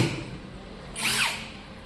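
A Masterpro battery drill bores a hole, a brief rising high-pitched whir that peaks and fades over low background hum.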